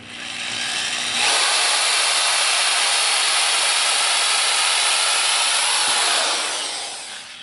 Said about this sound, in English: Do not rotate the reamer any other direction except clockwise, unless you have a counterclockwise reamer.